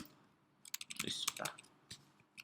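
Keystrokes on a computer keyboard while coding a Dart loop exercise, a quick cluster of clicks in the middle with a few isolated taps before and after, fairly close and mostly alone.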